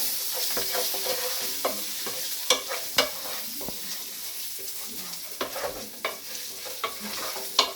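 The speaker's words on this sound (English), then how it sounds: "Always remember to stir it to cook bacon evenly." Bacon frying in a pan while being stirred, a steady sizzle under a run of scraping and clacking stirring strokes at an irregular pace, close and fairly quiet throughout.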